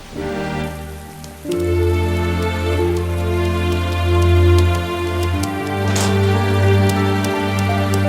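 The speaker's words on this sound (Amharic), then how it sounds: "ዘነበ" Rain falling as a continuous patter on surfaces, loud and close, layered over a steady low hum with a few sharper drop ticks.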